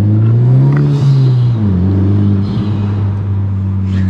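Nissan 350Z NISMO accelerating past close by, a loud deep engine roar that rises in pitch, shifts down as it passes, then holds a steady droning rumble.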